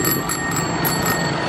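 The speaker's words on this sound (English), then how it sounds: "figured out I got a bell. I'm gonna use this like crazy." A bicycle bell on a rented bike in the streets of Phnom Penh, Cambodia, ringing steadily and brightly for the whole moment over a busy background of traffic noise.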